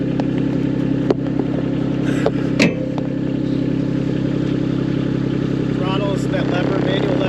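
A sidewalk machine's engine runs at a steady, loud idle with a constant low drone, marked by a few clanks and a brief metallic squeal, as people talk nearby.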